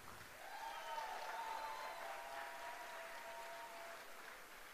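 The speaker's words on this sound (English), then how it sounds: "So let's give a big round of applause." Audience clapping fills the space, a steady sustained wash of applause with a tonal hum running underneath.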